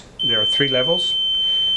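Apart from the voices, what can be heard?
GIT XA1 glove tester beeper signaling leak test cycle concluded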